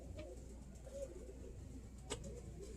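Birmingham Roller pigeons cooing softly in a loft, faint and low under steady background noise, with a couple of brief sharper sounds.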